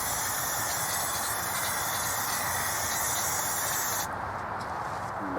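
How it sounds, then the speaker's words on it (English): A spray paint can hisses steadily and close up as fresh coats go onto an old, abandoned arcade cabinet under repair, a continuous broadband spray that briefly pauses near the end. "Look at this left-handed spraying."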